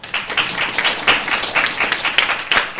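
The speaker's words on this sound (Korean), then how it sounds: "박수 주세요." Students at a university health information department freshman orientation clap for the club presenter: a dense, lively round of hand claps that keeps a steady intensity throughout, with no talking.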